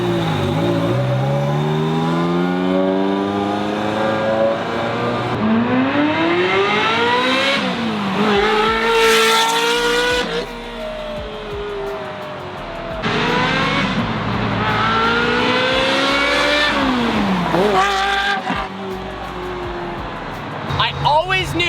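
A Ferrari 355 engine revs hard through rising, falling shrieks, quiet at low RPM then climbing to a loud high-pitched wail, with a voice talking over it.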